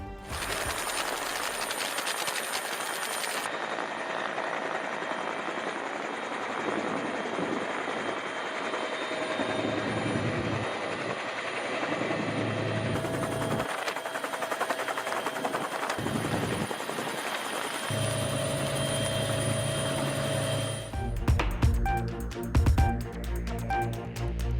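A rescue helicopter flies over flood-hit areas during heavy rain in Sri Lanka, its rotor beat and engine whine loud and continuous for the whole stretch, growing rougher and more choppy toward the end.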